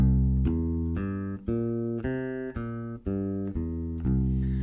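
A bass guitar plays a root-position dominant seventh arpeggio fingered from the pinky, one clear sustained note after another in an even rhythm, close and clean with no voices.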